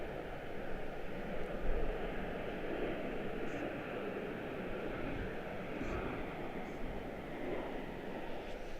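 A distant aircraft at Washington Dulles International Airport gives a faint, continuous broadband roar that holds steady throughout without clear peaks.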